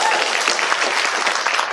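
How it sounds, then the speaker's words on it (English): A banquet audience claps for the outgoing officers at an FFA spring banquet, steady and fairly close, a short continuous burst of many hands. "Let's give these guys a round of applause."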